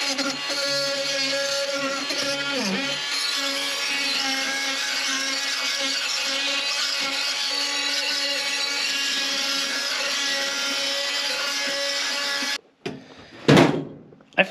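A Ryobi power tool fitted with a flat blade grinds steadily against the floor of a 1950 Ford Shoebox car, a continuous loud whirring buzz that cuts off near the end, followed by a few knocks.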